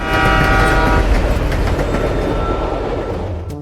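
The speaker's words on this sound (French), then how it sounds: "Un train vient de traverser notre studio, comme dans Subway Surfers." A train roars through, as in the Subway Surfers game, with a loud close rumble, a sustained horn blast at the start and faint clickety-clack, fading slightly toward the end, no talk.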